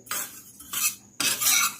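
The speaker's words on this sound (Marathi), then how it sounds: "तिळाला पण आपण कमी गॅसवर मस्त भाजून घेऊ" Sesame seeds are stirred while roasting in a pan over low heat, giving three short bursts of dry scraping and rattling from a spoon against metal, close up with no talk.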